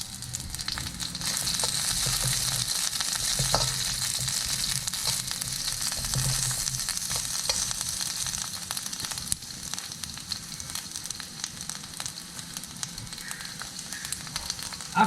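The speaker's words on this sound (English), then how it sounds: "We are going to stir fry them." Thosai coconut chutney ingredients stir-fry in a little oil in a wok over medium heat, giving a steady, close sizzle with occasional crackles and soft stirring scrapes throughout.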